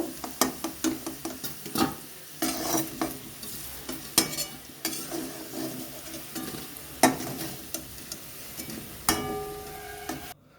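Potatoes fried red in hot oil are stirred and lifted out, a steady close sizzle broken by repeated scraping and clinking strokes of a utensil against the pan.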